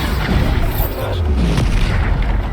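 A Bombarda explosion spell in the video game Hogwarts Legacy, a loud, dense booming blast with rumbling low end and crackling debris, sustained through the short stretch amid busy game combat.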